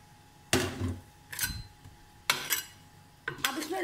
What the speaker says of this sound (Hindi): सबसे पहले हम पैन में डालेंगे मक्खन और इसे मेल्ट करेंगे, और साथ साथ आपने चम्मच चलाते जाना